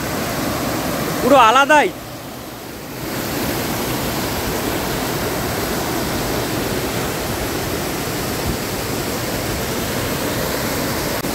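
Bhatinda waterfall roars as a steady, loud wash of rushing water that fills the whole stretch, with a brief voice speaking near the start.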